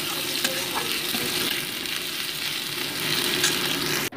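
Whole cumin seeds and crushed ginger fry in a pan for a moong dal tempering, giving a steady, close sizzle with faint stirring scrapes throughout and no talking.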